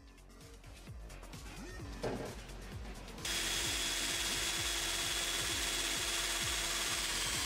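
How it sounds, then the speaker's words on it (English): A power drill bores a hole for a wiring harness through a car's metal firewall during a K20A2 engine swap into a Honda EK, a soft ratcheting whir that breaks into a sudden, steady loud grinding about halfway through. "Drill hole for harness."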